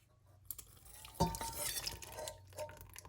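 Wet ingredients being stirred into dry ingredients in a mixing bowl for a squash and cranberry bake, soft, close scraping and clinking of a utensil against the bowl, quiet with no talking.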